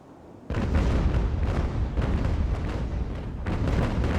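Naval cannon broadsides firing canister shot in the age-of-sail battle game Ultimate Admiral: Age of Sail, a sustained low rumbling barrage of booms that starts abruptly and continues steadily, with another burst near the end.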